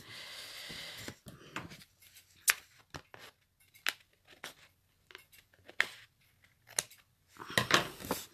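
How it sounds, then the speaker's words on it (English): Scissors snip through postcard blanks in a quiet room, each cut a short crisp crunch, repeated roughly every second across the clip, with a busier burst of cutting at the start and end. "These are not the best scissors today."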